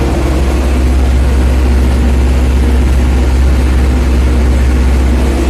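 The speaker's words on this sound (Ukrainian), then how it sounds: "бо я в тракторі культивірую" A tractor engine drones loud and steady from inside the cab while cultivating a dry, dusty field, a constant heavy low rumble with no pauses.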